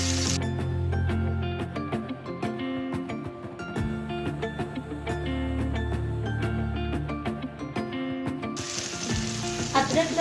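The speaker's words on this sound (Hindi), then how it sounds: "इसको अच्छे तरीके से मैं प्याज के साथ पहले फ्राई करूंगी" Minced meat frying with onions in a hot pan, a steady close sizzle with occasional stirring scrapes, under soft background music and no talk.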